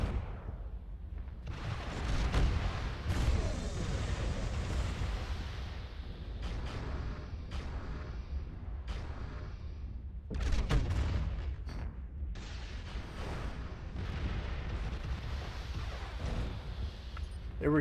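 Heavy mech weapons fire in the battle game Mechwarrior Living Legends, continuous rumbling cannon and artillery booms with repeated gunfire bursts across a team match, loud and dense throughout.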